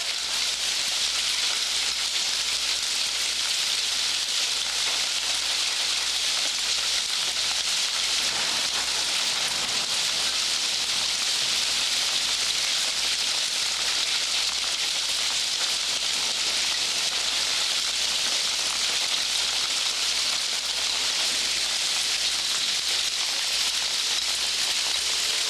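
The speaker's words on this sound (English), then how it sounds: "The hail has modulated to a gentle rain, enough to smear a lens, so my brolly is still up." Gentle rain falling steadily in Venice after a hailstorm, a dense, even hiss of drops pattering on surfaces, close and continuous for the whole stretch with no talk.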